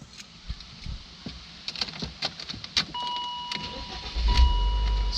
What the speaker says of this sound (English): Let's go ahead and fire the car up.